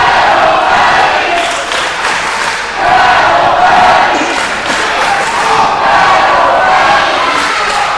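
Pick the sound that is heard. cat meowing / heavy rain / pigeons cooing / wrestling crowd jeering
wrestling crowd jeering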